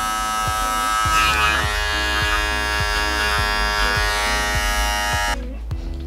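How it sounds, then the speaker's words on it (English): Electric hair clippers buzz steadily while cutting a low skin fade, a close, loud, constant motor hum with faint rhythmic pulses, stopping abruptly just before the end. "Use the corners of the clipper to perfect what I'm doing."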